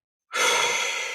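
A single deep breath during a guided meditation, one long, close, breathy exhalation that starts abruptly and fades slowly, heard alone with no talking.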